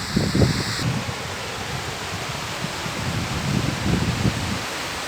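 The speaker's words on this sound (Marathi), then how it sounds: "या जंगलाच्या मधोमध हा आहे निसर्गरम्य नापणे धबधबा" The Napne waterfall in dense forest at Sindhudurg pours steadily, a broad continuous rushing hiss with gentle swells in strength, heard alone without voices.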